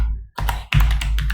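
Computer keyboard keys typed in quick bursts, close and fairly loud, with a short pause between two runs of taps.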